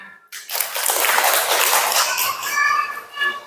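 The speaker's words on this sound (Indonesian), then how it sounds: "Bagus, tepuk tangan." A group of trainees at a conductor training session for the Indonesian national anthem and Muslimat songs bursts into applause, a dense, loud burst of clapping after a brief pause, fading slightly then swelling again.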